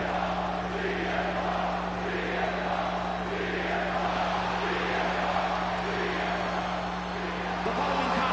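A large arena crowd at a WrestleMania match in the WWE 2K25 wrestling game roars steadily throughout, a dense wash of cheering held at a constant level with a low steady hum beneath it.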